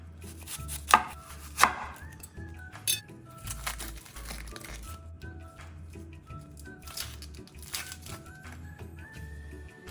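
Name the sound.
chopping yellow onion finely with knife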